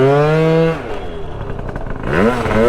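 A Honda Dio scooter with a freshly richened, tuned carburetor runs close by, its engine note steady and then dipping before it climbs again as the throttle opens, with no talking.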